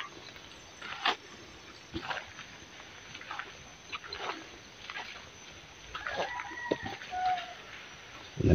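A wild rooster crows a few times at a distance, with scattered rustling and bumps between calls and a louder knock at the end.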